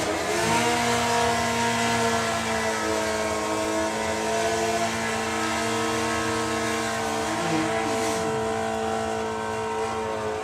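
An ET class drag racing motorcycle launches down the strip at the Springspeed Nationals, its engine a loud, sustained droning roar whose pitch shifts slightly near the end, heard with no talk over it.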